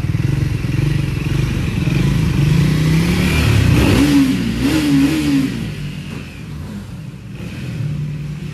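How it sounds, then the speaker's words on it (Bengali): A motorcycle on a group road ride revs hard with a loud exhaust, its engine rising and falling in strong bursts close by, with no talk over it. "এক্সস্টটাকে একটু লাউড করি"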